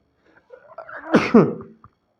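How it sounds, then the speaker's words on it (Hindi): A single close, loud sneeze with a short breathy build-up and an explosive release, heard alone during a biology revision lesson. "छींक आने जरूरी रहते हैं ना"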